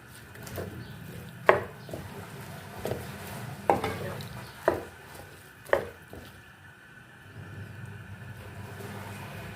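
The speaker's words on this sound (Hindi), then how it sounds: "इसको हम मिक्स कर लेंगे।" Minced meat with salt, paprika and water is stirred in a pan, a spoon knocking sharply against it a handful of times over a soft, continuous sizzle, close and without talk.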